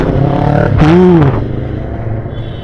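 A Yamaha R15 motorcycle passes close by on the road, a loud engine swell with a rising and falling whine over about half a second before fading into steady traffic rumble.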